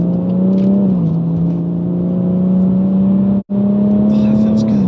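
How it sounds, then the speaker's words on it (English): BMW M140i accelerating hard, its engine note droning steadily from inside the cabin, rising briefly, dipping at a gear change near the end, then resuming. "These cars get to 70 very, very quickly without really putting much effort into using the throttle."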